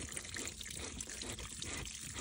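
Water trickles steadily through a farm valve that is shut tight, a continuous soft hiss and splash with no break and no voices.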